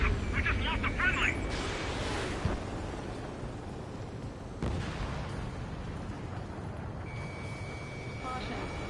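Missile launch and explosions in the Ace Combat 7 combat flight game: broad roaring blasts and rumbling bursts, with warning beeps and tones sounding over a dense battle din, under speech.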